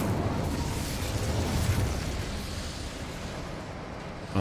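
An Incendio fire spell cast in Hogwarts Legacy, a loud, sustained roaring whoosh of flame that holds steady and slowly fades over a few seconds, with no talking.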